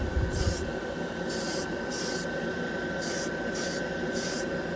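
Rapid bursts of Black 3.0 paint from an airbrush or spray gun laid down as a final coat, six short hissing sprays separated by pauses over a steady background hum, close and fairly loud.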